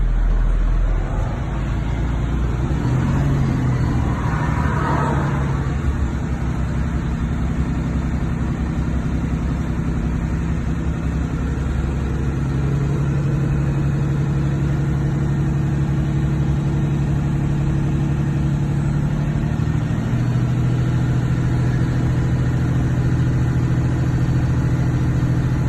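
A Class B truck engine idles steadily in neutral with parking brakes applied, building air brake pressure; a constant close low drone with slight shifts in pitch partway through.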